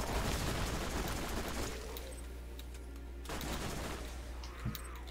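Rapid automatic gunfire from the Borderlands video game crackles in dense bursts, loud and close, pausing and then resuming in a second volley with a sharp shot near the end.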